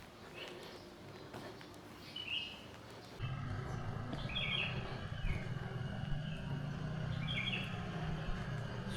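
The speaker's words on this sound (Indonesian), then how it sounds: "Suara burung" At dawn in Jakarta, a few birds chirp faintly in short, spaced calls over a steady low rumble of distant traffic that grows louder partway through.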